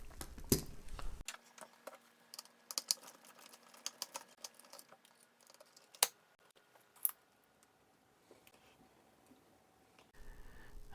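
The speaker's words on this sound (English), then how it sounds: "let's start taking apart this keyboard and see what we can find" Close, quiet clicks, taps and plastic rattles come from a TI-99/4A computer's Matsumi keyboard being taken apart by hand, in irregular bursts with pauses between them and no talking.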